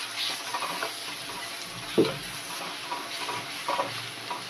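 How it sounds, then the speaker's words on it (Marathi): Ground masala paste stirs and fries in hot oil in a pan for a traditional dried shrimp, brinjal and jackfruit seed curry, giving a soft steady sizzle with occasional scraping spatula strokes and small clinks. "एखादा मिनिट परतून घेतलं तेलासोबत हा मसाला घालून."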